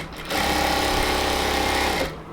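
Sewing machine running a seam on a cotton salwar, one steady continuous whirring stitch burst of about two seconds, close and loud, starting and stopping cleanly.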